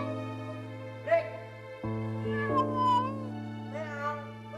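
A cat meows several times in a sequence of drawn-out cries over a steady background hum, in a tense indoor setting.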